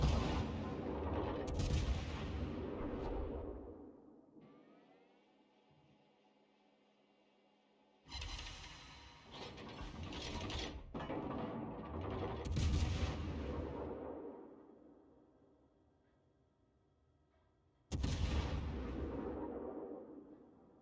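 Warship main-battery guns fire salvo after salvo in a World of Warships naval battle, loud booming blasts with long rumbling decays, three big bursts separated by quieter stretches of engine hum.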